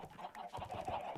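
Several Minecraft chickens cluck in short, uneven bursts that carry on continuously, close and moderately loud, with no voices over them.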